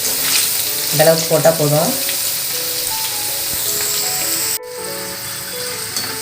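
Thin potato slices for homemade masala chips frying in hot oil, giving a steady, close, bright sizzling hiss throughout; a voice speaks briefly near the start over the frying.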